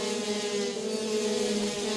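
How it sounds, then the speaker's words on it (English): Rok Shifter Senior racing karts fly past on a track in Ocala, Florida, producing a sustained, buzzing high-revving engine whine that stays loud and steady for two seconds. "A great flyby shot of your"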